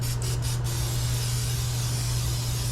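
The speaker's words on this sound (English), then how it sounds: "I'm just gonna use canola spray" Canola oil cooking spray hissing from a can into a pan, a steady, close, continuous spray over a low background hum, with a few quick spurts at the start.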